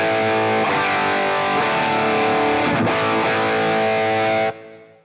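A loud distorted Les Paul electric guitar holds sustained notes with string bends, ringing steadily before cutting off abruptly near the end.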